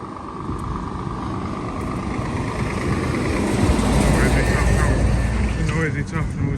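Lorry passing on the road in front of Bermuda Park railway station, its engine rumble building and growing louder as it nears, with someone talking over it.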